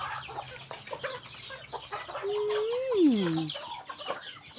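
Several chickens cluck and chatter close by, with a louder rising-and-falling squawk from one bird partway through, over a steady outdoor background.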